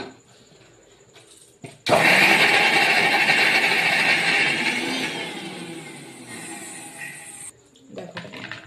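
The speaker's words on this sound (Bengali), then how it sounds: "এখন এটাকে আমি মিক্সিতে বেটে নেব" An electric mixer grinder grinds ingredients into a paste for halwa. It starts abruptly with a loud, harsh whirring roar, runs for about five and a half seconds, then cuts off, with quieter kitchen sounds before and after.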